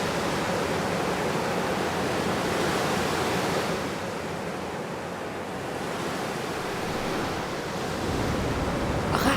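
Sea waves wash onto the seashore in a continuous broadband rush, swelling and easing slightly, with some wind mixed in and no voices.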